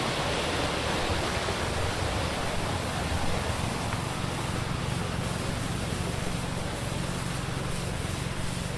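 Water rushes steadily through a channel at a hot spring resort in Calauan, Laguna, a loud, close, continuous broadband wash with no breaks.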